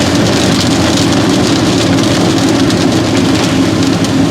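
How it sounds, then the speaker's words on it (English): Tires of an LS-swapped Porsche 944 hiss and spray water continuously on a wet road in rain, a loud, dense wash of rain-like noise over a low engine hum. "the tires just taking it to grab the rain and throw it out the side"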